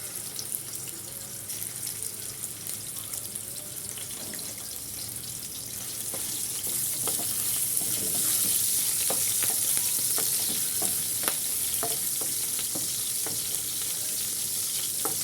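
Liver and onions fry in hot fat in a pan with a constant, loud sizzle. Occasional stirring scrapes and crackles sound through it, and the sizzle grows a little stronger partway through.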